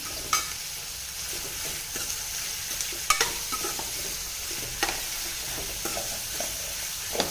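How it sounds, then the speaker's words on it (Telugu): Onions frying in a pan for an onion egg curry, a steady soft sizzle with scattered crackles and pops and occasional stirring scrapes, close and moderately quiet, no voices. "ఇలాగే ఆనియన్స్ సాఫ్ట్గా అయ్యేదాకా కుక్ చేయాలి. చూడండి, ఫ్రై అవుతున్నాయి."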